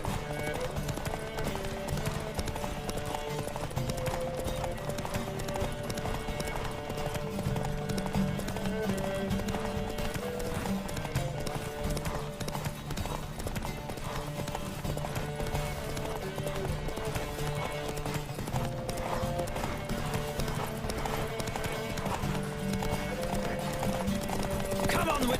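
Horse hooves pound in a steady galloping clip-clop during a horse race in The Witcher 3 video game, running continuously under game music and occasional voices.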